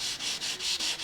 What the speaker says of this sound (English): sanding it out